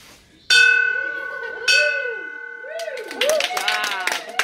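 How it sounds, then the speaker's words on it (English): Bell rung at a small group gathering, two clear struck tones with long ringing decay, then a burst of quick rapid ringing near the end, loud and close. "Let's hear that bell."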